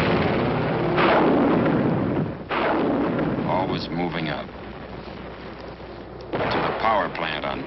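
An artillery barrage laid down as a fire curtain in the Korean War, a continuous roar of heavy booming blasts rolling and swelling over several seconds, loud and dense, with distant rumble between the stronger surges.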